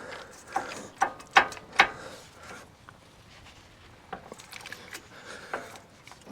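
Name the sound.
ratchet loosening Jeep caliper bolts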